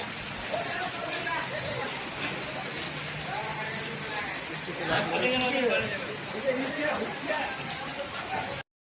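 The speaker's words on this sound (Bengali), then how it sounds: "পুরো বৃষ্টি পড়ছে" Steady rain hisses down while a truck carrying sugar is unloaded at a local warehouse, a continuous wash of sound under someone talking close by.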